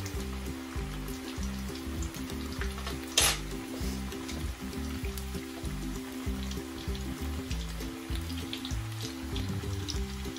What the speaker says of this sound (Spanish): Vamos a ir moviendo para que se vaya friendo bien.